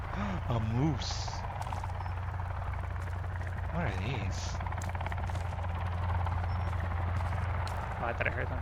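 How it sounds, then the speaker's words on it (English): A helicopter in the video game Sons of the Forest drones with a steady, loud rotor hum throughout, while a person talks over it. "Helicopter."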